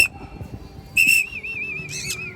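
A sharp, bright whistle sounds in two blasts, the first with a long warbling trill, used to call a trained bird outdoors over faint background murmur.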